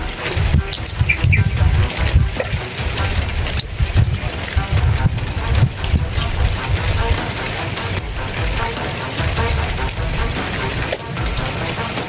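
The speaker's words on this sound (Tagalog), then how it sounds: "May naririnig tayong mga motor sa paligid mga doon." Motors drone in the surroundings outdoors, a low rumble under heavy wind buffeting the microphone, with occasional voices.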